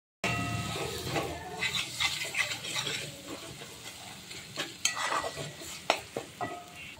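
Onion and tomato roasting in a hot pan, with a steady sizzle under repeated scraping and stirring strokes that come in irregular bursts, close and clear, no talking.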